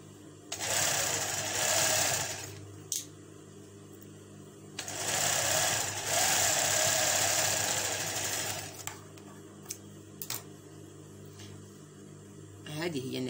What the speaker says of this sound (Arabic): نرجع نسيري الماشينه